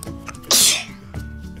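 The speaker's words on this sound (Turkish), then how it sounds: "hey niye hapşırıyorsun?" A single sharp sneeze bursts out at close range during indoor play with an Orbeez pool, with quiet voices and small sounds before and after it.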